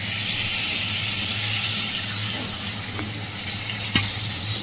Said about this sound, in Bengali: এইবার মাংস কষানোর জন্য মাংসটাকে পুরো ওই কড়াইতে ঢালা হচ্ছে।